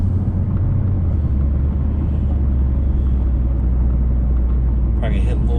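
A high-mileage 2013 Ford Focus with a slipping transmission driving on the road, heard from inside the cabin as a loud, steady low engine and road drone with tire rumble throughout.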